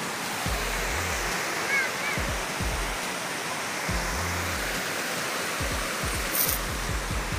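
Dao Falls roars as a steady, dense rush of falling water close by. It is loud and unbroken, with occasional low rumbles from wind or handling.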